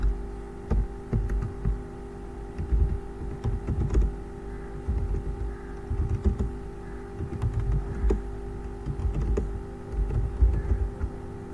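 Steady, close typing on a computer keyboard, clustered rapid keystrokes with short pauses, moderately loud and alone with no voices.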